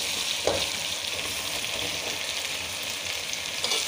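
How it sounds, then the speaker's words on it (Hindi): Cut eggplant dropped into potatoes already frying in hot oil in a pan, a loud continuous sizzle with a brief splashy burst near the start and another near the end. "अब जो है अब हम इसमें अपने जो बैंगन हमने काट के रखे थे वो बैंगन डाल देंगे"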